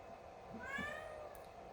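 A cat lets out one soft, wavering meow that swells and fades against a steady background hum.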